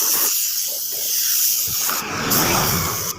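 Spray gun painting motorcycle parts, a steady close hiss of atomized paint spraying continuously, louder and broader in the second half, with no talking.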